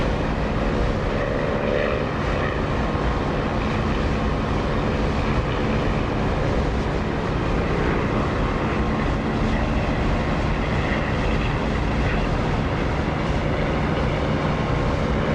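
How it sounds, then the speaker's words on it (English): A propeller aircraft engine in the DCS flight simulator runs with the canopy open, a loud, steady droning rumble that holds constant throughout without pause, no voices over it. "I love the sound of this engine with the canopy open"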